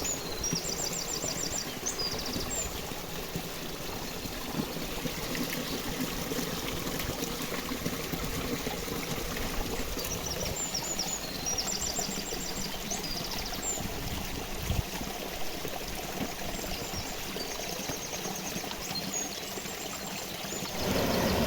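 A river and stream flow through a green picnic area near a small waterfall and mill channel, a steady close rushing and babbling of water that runs unbroken for the whole stretch, with no talk.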